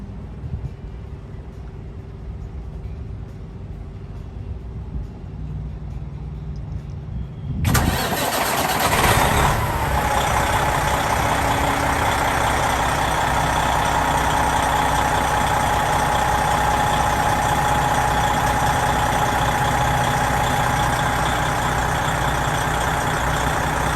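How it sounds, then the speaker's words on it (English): A Freightliner diesel truck engine, started by remote, cranks briefly, catches with a loud roar, then settles into a steady, rumbling idle that continues without pause. "That's gonna start the truck."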